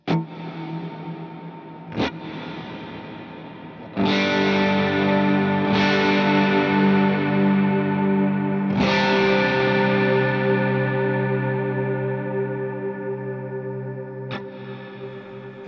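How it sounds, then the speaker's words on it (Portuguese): An electric guitar played through an HX Stomp pedalboard rings out with a long reverb. Several strummed chords, one every couple of seconds, bloom loudly and decay slowly into a lingering wash, with no voices. "É um reverb mais longo"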